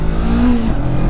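The 471 cc 180-degree parallel twin engine of a Honda CBR500R revs in a short, loud, rough burst whose pitch swells and eases within about a second.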